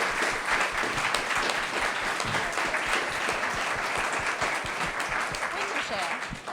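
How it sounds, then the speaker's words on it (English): Audience applause at a talk on creative careers, thick continuous clapping from a large crowd with some voices mixed in. "I'm calling for a shared round of applause"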